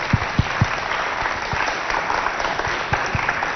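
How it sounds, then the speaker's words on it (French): At a children's game show contest, a crowd applauds two contestants with steady, energetic clapping, a few louder nearby claps popping out above the broad wash of applause. "Applaudissez pour vos deux candidats."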